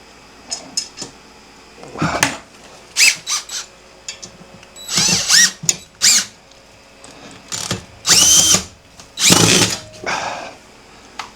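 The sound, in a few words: power drill driving screws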